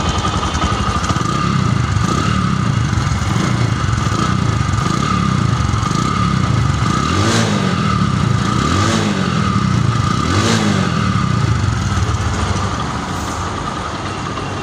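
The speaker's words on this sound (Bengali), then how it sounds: "এবার বাইকটা সাউন্ডে আসবো। বাইকটা স্টার্ট দিচ্ছি" A secondhand Bajaj Discover 100cc motorcycle engine runs nearby at a steady idle, a continuous, even putter with slight rises in pitch. The sound eases a little near the end.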